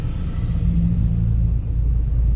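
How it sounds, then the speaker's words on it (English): Heavy road traffic in Angeles City, Philippines: a dense, continuous low rumble of engines close by, steady and loud throughout with no talking. "Today first working day, that's why so heavy traffic in Angeles."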